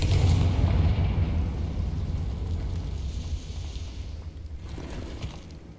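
A fiery Confringo spell blast in the video game Hogwarts Legacy, set in an abandoned underground mine: a loud, deep boom rolls out at once and fades slowly into a long rumbling tail.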